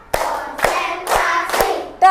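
Four sharp, evenly spaced group claps from primary school pupils doing the Tepuk 4 classroom clap pattern, each a crisp burst with a short ringing tail, close and loud in a room.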